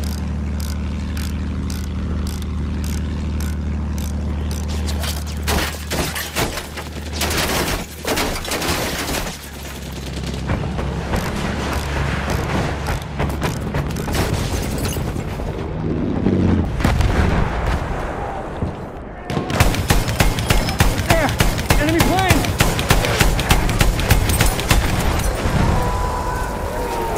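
Battlefield 1 Ottoman Empire operation at Fao Fortress: dense machine gun bursts and rapid rifle fire mixed with heavy artillery booms and explosions, continuous and loud, with shouted voices occasionally underneath.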